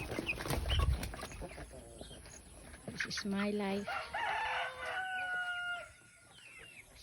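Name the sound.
rooster crowing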